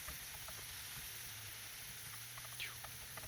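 Tuscan-style sausage with peppers and onions sizzles softly in a pan, a faint, steady hiss with light crackles and a brief scrape of a spatula.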